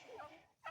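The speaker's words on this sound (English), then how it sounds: "There's the old turkey girl." A backyard turkey kept with chickens and ducks gobbles in two quick, faint warbling bursts separated by a brief gap, with no talking.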